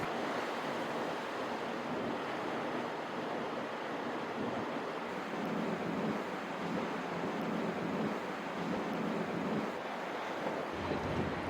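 Strong wind roars steadily at a South Georgia seabird colony by the sea, a continuous broadband buffeting with surf rushing underneath and gusts swelling and easing, no voices.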